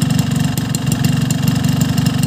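A hot two-stroke motorcycle engine idles through a racing exhaust, a loud, close, rapid and steady low burble with slight unevenness and no talk.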